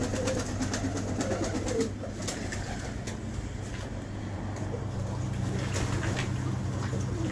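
Pigeons kept by a pigeon fancier coo steadily and softly throughout, layered over a constant low hum and faint background noise, with no voices.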